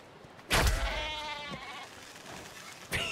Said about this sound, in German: Schafe! Liebe Schafe!